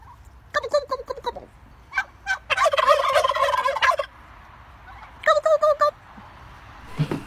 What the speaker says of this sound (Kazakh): Бұл құс күрке тауық деп аталады